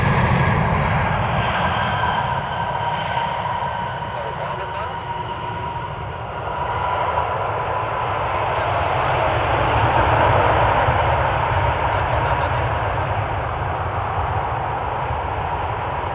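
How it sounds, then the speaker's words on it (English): A Boeing 737 Max 9 jet lands on runway 6 left in Cleveland, a broad steady roar of engines and rushing air that swells and eases over about sixteen seconds, with a faint rhythmic ticking high above it. "It's a Max 9 here, landing on 6 left."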